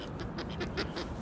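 Ducks quacking in a town setting beside a cycle path in Fos-sur-Mer, a quick run of four or five nasal quacks in steady rhythm, fairly close, over a constant low background rumble.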